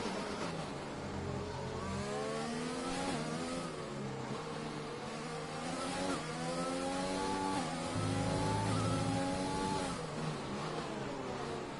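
Formula race car engines scream continuously in a video game race at Brazil's Autodromo Jose Carlos Pace, with several cars' rising and falling revs overlapping throughout, loud and steady with no voices.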